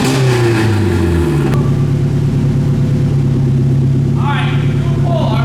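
Turbocharged SR20DE Nissan Silvia engine on a dyno at 14 PSI holding a two-step launch limit, a loud, harsh, steady stuttering rev close up that falls in pitch early on, with voices talking over it.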